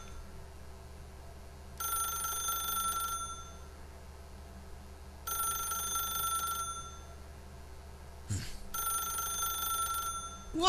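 A telephone ringing in the video game The Stanley Parable, three separate bursts of a shrill electronic bell, each lasting about a second and a half with silence between, moderately loud over a low hum, with a brief thud before the last.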